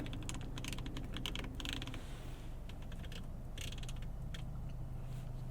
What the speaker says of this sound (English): We turn the dial over here.